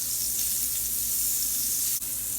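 Butter sizzles and crackles steadily in leftover bacon grease in an unwashed pan, a loud continuous hiss with a brief dip near the end.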